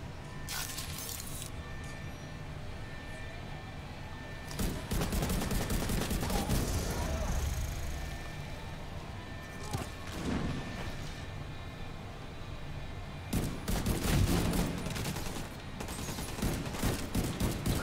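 Gunfire in The Division 2: bursts of rapid shots crackle in clusters, a short volley at the start, a longer sustained exchange in the middle and heavy firing near the end, with a voice talking at times over the shooting.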